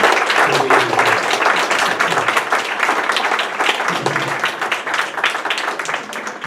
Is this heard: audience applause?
yes